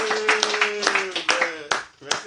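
Applause at a religious gathering during a sermon, a crowd clapping in short uneven bursts while a voice carries over it.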